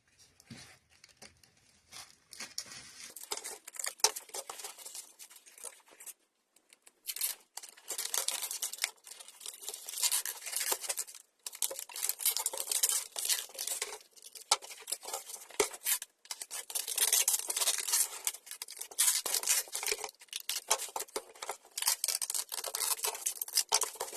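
Reinforced adhesive tape being pulled and torn, a series of crinkly ripping bursts with short pauses between them, close and fairly quiet, with no talking.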